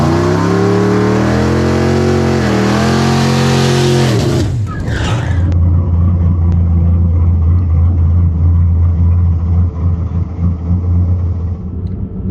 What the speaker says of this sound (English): Looks like he's going to do a second burnout.